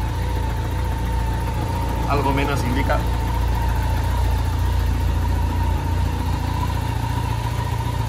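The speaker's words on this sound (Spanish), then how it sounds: "Ahí a la ralentí, a mil vueltas estará justo" A BMW K1100 RS motorcycle engine idles at about a thousand rpm with a steady low hum throughout, while someone speaks briefly over it.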